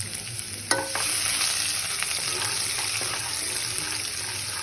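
Ginger, onion and garlic sautéing in hot oil with mustard seeds and cumin for a restaurant-style masala dal, a dense steady hiss after a sharp clatter as they hit the pan, with no talking.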